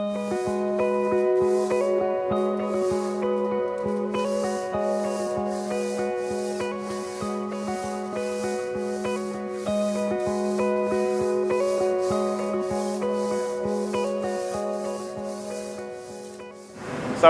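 Steady rhythmic rubbing of sandpaper strokes scraping back and forth on a 50ft sailboat hull, with a constant tonal hum underneath, close and continuous.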